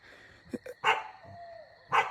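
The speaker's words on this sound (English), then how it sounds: "I don't like my dogs barking." A dog gives a few short barks and yips, separated by gaps and a soft whine, fairly close in a quiet setting.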